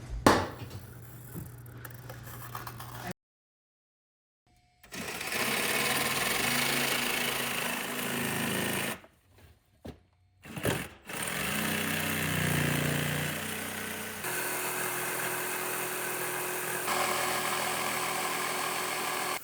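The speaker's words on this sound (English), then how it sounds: "use my jigsaw to cut this piece of wood out" A jigsaw cuts through a piece of wood in a steady, loud buzzing run, broken by a few brief stops and restarts before continuing to the end.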